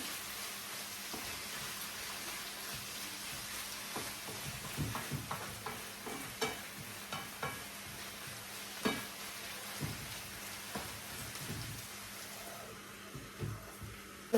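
Garlic and chili fry in a pan for a Sri Lankan eggplant white curry, a faint steady sizzle broken by intermittent scraping and stirring clatters, with no talking.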